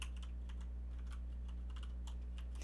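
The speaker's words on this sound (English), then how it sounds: "listening to the sounds just makes me love typing even more." Fingers typing quickly on a computer keyboard, a continuous run of soft, close key clicks with no pauses, faint over a steady low hum.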